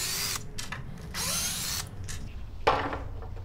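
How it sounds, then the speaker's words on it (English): A power driver unscrews hardware from the wooden side rails of an old custom-made bed, whirring in several short bursts close by, with pauses between. "We're just going to unscrew it."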